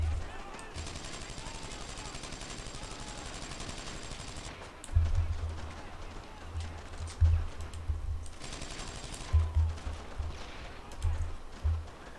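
Gunfire in the World War II shooter Brothers In Arms: bursts of automatic weapon fire rattle through the first half, then heavier, boomy shots and explosions thump irregularly in the second half amid game ambience.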